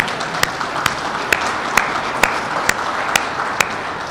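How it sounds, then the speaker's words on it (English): An audience claps steadily at a union vaccination site opening in Chicago, a dense, even wash of applause with sharp regular thumps punctuating it. "You can clap for that."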